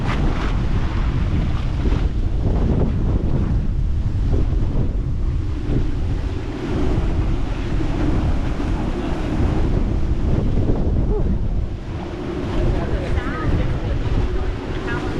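Roaring hurricane-force wind from Hurricane Ian buffets the microphone in Islamorada in the Florida Keys, with surging waves and water churning beneath it, loud and unbroken throughout.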